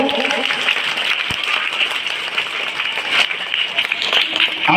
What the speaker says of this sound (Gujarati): એમના માટે આપણે એકવાર જોરદાર તાળી પાડીશું